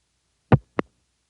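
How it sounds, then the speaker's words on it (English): A crossbar tandem register sender drops out on a long-distance telephone trunk, heard as two short, clean clicks or thumps about a quarter second apart, with silence before and after. "the register sender dropping out and leaving you on the trunk sounds like this"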